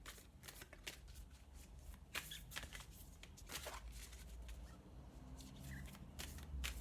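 Tarot cards are riffled and shuffled in quick, crisp bursts, close up and fairly quiet, with no talking.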